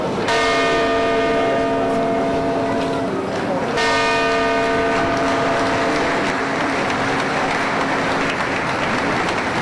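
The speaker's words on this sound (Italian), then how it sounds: "la campana della Torre Civica rievoca con i suoi rintocchi i 7 minuti che hanno sconvolto" The Civic Tower bell in Treviso tolls in a piazza, two loud ringing strikes a few seconds apart with long sustained humming decay over a steady background roar.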